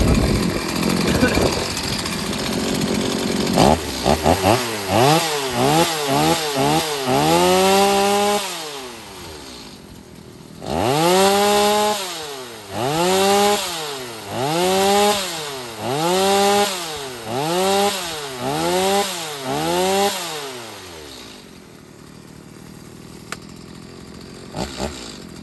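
A 2004 German-made Stihl 021c chainsaw revs loudly and up close in repeated throttle bursts, each rising and falling in pitch, with a rougher stretch before and a short idle pause between two runs of about ten revs.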